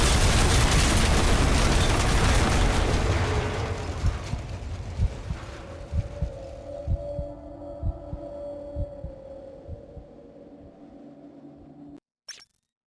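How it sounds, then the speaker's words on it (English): A massive explosion in the video game F.E.A.R. roars as a loud, broad rumbling blast that slowly fades into low thuds and a droning hum before cutting to silence. "a massive explosion detected by Hannibal 3 spy satellite in the vicinity of classified Armacam facility"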